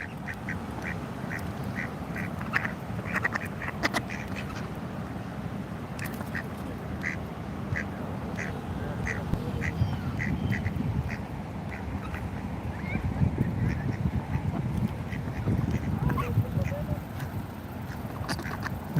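Ducks, some of them ducklings, give repeated short quacks in irregular bursts through a steady low rumble of outdoor background noise, with people talking faintly at times.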